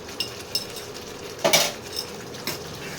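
A spoon scrapes and clinks against a pan while ghee is stirred into a potato curry (aloo dum), with a few separate taps and one louder scraping stir in the middle over a soft simmer.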